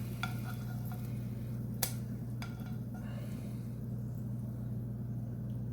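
Hamburger patties fry in grease in a pan, a soft steady sizzle over a low constant hum, with a couple of sharp utensil clicks against the pan.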